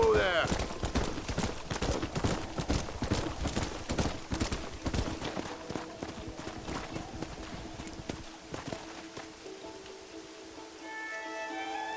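Horse hooves galloping in Red Dead Redemption, a rapid, continuous clip-clop of hoofbeats close by that gradually thins out and fades, with a faint tonal sound near the end.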